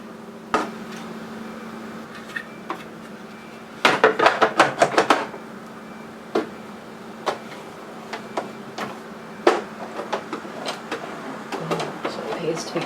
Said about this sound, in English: I always like to do a few hand cranks before I plug it back in